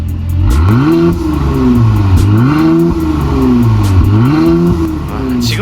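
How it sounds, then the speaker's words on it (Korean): A Mercedes-AMG GLC43 facelift with an aftermarket Armytrix valved exhaust, valve open, revs repeatedly, its loud exhaust climbing and dropping in four or five sharp throttle blips with a deep, raspy tone. "자 그러면 소리 한번 들어보겠습니다 악셀 쳐줘"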